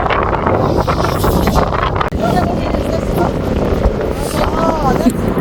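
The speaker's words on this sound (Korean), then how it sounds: "바람 많이 분다 바람이 불어서 지금 춥습니다" Strong, cold wind blows outdoors in Victoria, roaring and buffeting the microphone as a continuous loud rush. Voices are faintly audible beneath it.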